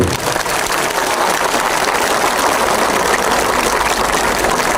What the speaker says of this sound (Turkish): sizler de dualarınızı esirgemeden bir alkış istiyorum sizlerden